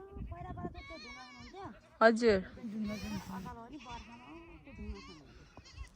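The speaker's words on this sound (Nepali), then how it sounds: "आमा बाख्रा चराउन आउनु भएको" Goats grazing outdoors bleat repeatedly in wavering calls, one loud near bleat standing out in the middle, while people talk over and between the animals.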